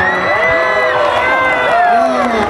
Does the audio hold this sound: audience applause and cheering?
yes